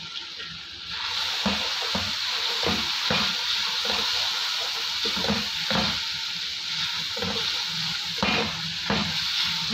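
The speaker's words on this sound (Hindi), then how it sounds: "मसालों को अच्छी तरह हिलाने के बाद" Ground spices with black pepper and chaat masala sizzle and fry in a hot pan while being stirred, a loud steady crackling hiss broken by regular scraping strokes of the spoon, with no talk.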